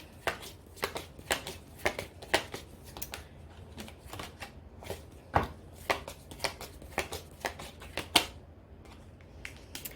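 Tarot cards being shuffled by hand, a steady series of crisp close riffles and taps across the whole stretch, fairly quiet with no talking.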